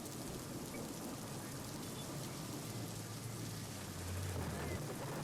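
Heavy rain pours steadily in Sambhajinagar district after two days of stormy winds, a dense, even wash of noise with a faint low hum underneath and no other sounds.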